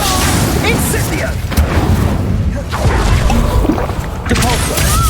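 A fire spell is cast in the Hogwarts Legacy video game, a loud roaring whoosh and crackling burst amid dense combat noise and booms that fill the whole stretch, with a voice calling out over it.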